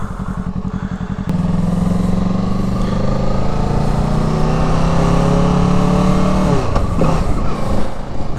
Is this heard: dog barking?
no